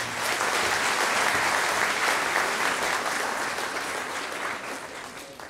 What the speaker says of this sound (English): A final round of applause, please